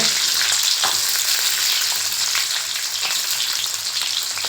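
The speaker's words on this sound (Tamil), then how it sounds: "ஒரு கொத்து கருவேப்பிலை போட்டு வெங்காயம் நல்லா வதக்குங்க" Onions and curry leaves fry in hot oil for a fish curry, with a loud, steady sizzle and crackle throughout and occasional stirring.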